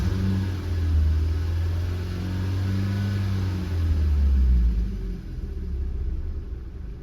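A car engine revs steadily during an oxygen and air-fuel sensor check, a loud continuous low rumble with rising and falling pitch that swells toward the middle and then eases off, with no talking.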